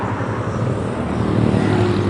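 A motorcycle ridden hard at high RPM on a quiet, straight road, its engine a loud, steady, continuous drone with a slight rise toward the end and no voices.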